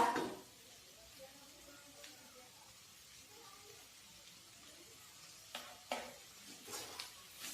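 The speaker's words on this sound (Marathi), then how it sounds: "आता मीठ आपण छान मिक्स करूया" Salt being stirred into a dry fenugreek and peanut vegetable in a pan over low heat, with soft scraping and faint sizzling, a few louder stirring strokes near the end, quiet and close.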